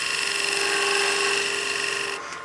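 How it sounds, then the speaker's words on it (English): Wood lathe turning a German smoker figure, a turning tool taking a slicing cut across the face of the spinning wood: a steady, close whirring hiss with a sustained tone that drops away abruptly near the end. "And then we can do a nice slicing cut here just to clean up this face."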